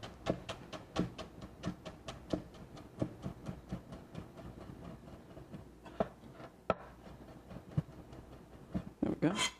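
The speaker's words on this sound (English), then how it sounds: "roll them up roughly and cut them down into a nice fine julienne" Knife cutting rolled eggplant into fine julienne on a cutting board, a quick, steady run of crisp close chops that slows and turns irregular toward the end, with no talking over it.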